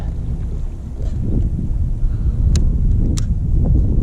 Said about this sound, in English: we've got all the wind coming this way